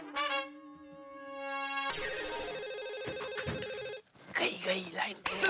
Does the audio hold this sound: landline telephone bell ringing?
yes